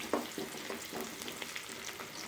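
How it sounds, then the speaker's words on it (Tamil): Onions sautéing in a pan for a cabbage kara curry, a steady soft sizzle with a few stirring scrapes and clinks, moderately close and fairly quiet, with no talk. "வெங்காயம் கொஞ்சம் வதங்கட்டும்"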